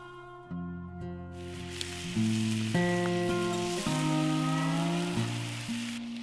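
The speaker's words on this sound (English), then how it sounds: "While I wait for the rest of the bacon to finish cooking" Bacon sizzles in a pan while cooking for breakfast, a soft continuous crackle lying under a louder melodic music track.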